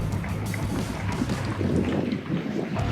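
A Torqeedo 1103 electric outboard on a 14-foot JK Knarr fishing kayak spins the boat on the spot, a steady low rush of water and motor under gusting wind noise on open water.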